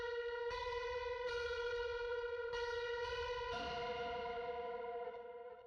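Nu-metal electric guitar, drenched in chorus, tape echo and reverb, a three-note pattern sustaining and repeating in shimmering, echoing layers before fading out, played alone and fairly quiet.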